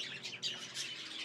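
A grey budgerigar in a budgie stud chirps and tweets in a quick run of bright, high calls with short pauses between them. The calls are close but fairly soft, and no one talks over them.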